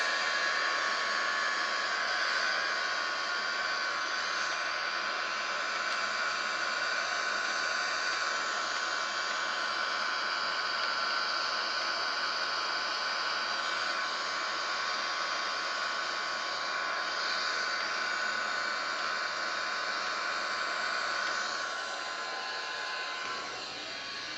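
Airbus A330 engines holding at idle thrust in Microsoft Flight Simulator, a steady, loud, even whine and rush that runs unchanged for the whole stretch with no voices over it.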